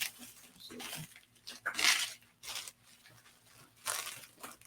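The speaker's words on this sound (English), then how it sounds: "we'll take this one out of this plastic bag" A comic book is pulled out of a plastic bag, giving several bursts of close crinkling and rustling with short pauses between them, with no talk over it.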